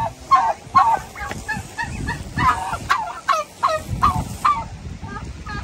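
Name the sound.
ducks quacking on a farm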